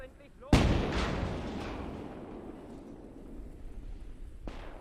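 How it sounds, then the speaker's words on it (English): A single heavy artillery shell is fired in a World War II strategy battle game, a loud sudden boom with a long rumbling decay, followed by a fainter distant blast near the end. "Just lobbing shells."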